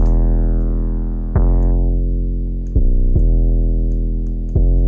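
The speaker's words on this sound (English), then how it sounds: "Just distortion and a bandpass like this." A deep, distorted 808 bass made with FL Studio stock plugins, distortion and a bandpass filter, plays in sustained notes, each re-struck a few times with a gritty, buzzing tone that gradually darkens as it decays.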